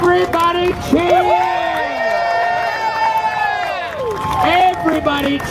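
A street crowd in New York City cheers and shouts together, a loud, sustained swell of many voices with whoops rising and falling over a few seconds, a leader's shouted voice coming through.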